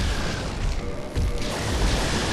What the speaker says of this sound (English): Oh, look at that sea of lightning.